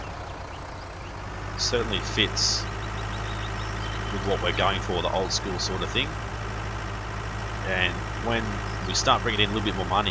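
A small old tractor engine idling in the game Farming Simulator 19, a steady low rumble running throughout under continuous talking.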